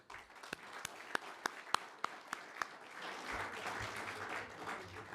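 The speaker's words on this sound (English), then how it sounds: "Please, again, join me in giving all of these folks a round of applause" Applause at a fiftieth class reunion dinner, beginning with slow single claps spaced evenly before a full round of clapping from the diners swells and holds, fairly faint overall.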